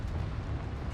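A Confringo blasting spell goes off in a small mine in the Hogwarts Legacy video game, a brief, loud, deep rumbling blast filling the whole second.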